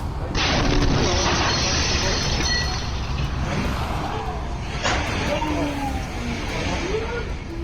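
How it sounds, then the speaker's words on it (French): A sudden loud gas explosion blast bursts out on a street in Haiphong, Vietnam, followed by sustained roaring rumble and street noise, with a second sharp burst partway through; voices shout faintly underneath. "Une explosion de gaz soudaine est survenue à Haiphong au Vietnam le 4 octobre."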